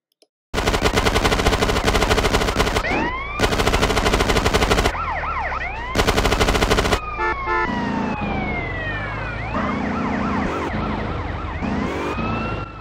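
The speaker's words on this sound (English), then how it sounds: "The ambulance is trapped" Bursts of rapid gunfire alternate with an ambulance's wailing siren in GTA San Andreas, sweeping up and down and continuing loudly under the shooting in a game-like mix.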